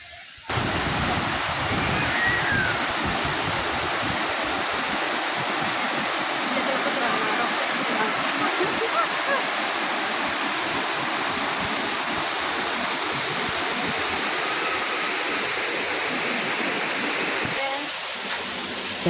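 Kothapalli waterfall roars in a constant, dense rush of water, loud and steady throughout.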